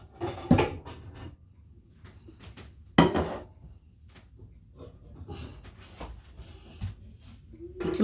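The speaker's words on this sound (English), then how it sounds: "going in the cabinet to get the pot" A metal pot is pulled out of a kitchen cabinet, giving a few sharp clattering knocks and bangs with quieter rummaging in between, close by.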